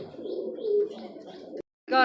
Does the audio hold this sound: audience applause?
no